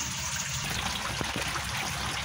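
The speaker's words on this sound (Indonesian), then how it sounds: "Saya kasih debit air tidak deras dan tidak kecil." Water trickles at a moderate, steady rate into a tubifex worm culture set up in a used gallon water jug on a rack, giving a continuous close flowing hiss.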